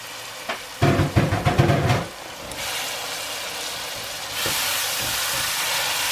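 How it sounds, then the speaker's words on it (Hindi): Tomatoes go into hot oil for a masala fish curry, giving a loud burst of crackling spatter that settles into a steady, close sizzling hiss, with no talking. "अब मैं इसमें टमाटर डालने लगी।"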